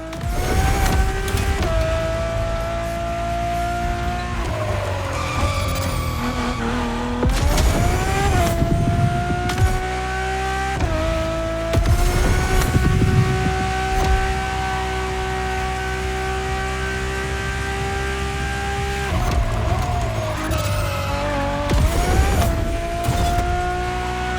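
A Ferrari Enzo supercar engine driven in the racing game The Crew Motorfest holds a loud, steady drone that climbs in pitch and drops sharply at each gear shift, with no voices.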